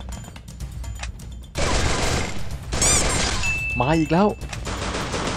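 Gunfire in the Free Fire battle game: bursts of shots and impacts come in uneven clusters under excited commentary, with a sharp crack or crash standing out partway through.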